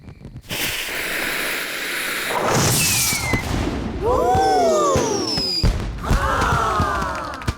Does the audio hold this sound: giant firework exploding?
yes